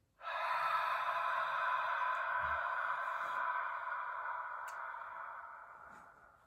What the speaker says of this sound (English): So first, exhale all the air out.